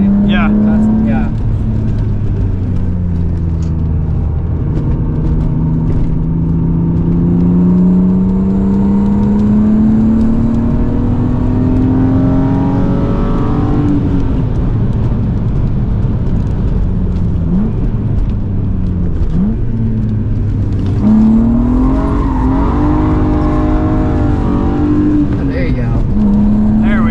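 A 1998 E36 BMW M3's loud engine revs and accelerates hard on a wet race track, rising and falling through gears over a long stretch, with people talking underneath.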